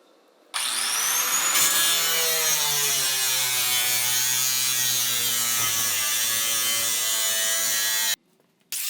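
A power tool saws through a Jeep Cherokee fender to clear 32-inch tires, a loud, continuous high whine that holds steady for about seven seconds and then stops abruptly.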